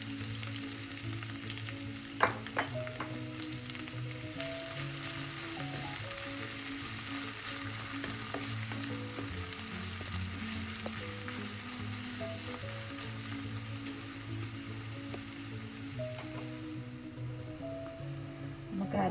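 Green chillies and crushed shallots sizzle in hot oil while being stirred for a homestyle Kerala mackerel curry, a steady close frying hiss with occasional clinks and scrapes of the spoon against the pan.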